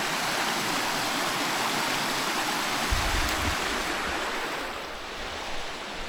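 A very shallow stream in Wales tumbling over small trickling waterfalls, heard from a bridge as a steady, broad, close rush of water that holds unbroken throughout, with no voices.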